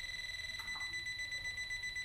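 A PEMF therapy device running on a very high frequency setting gives a steady high-pitched electronic tone, like a continuous whine or beep. It holds at an even level for about two seconds against a faint low background hum.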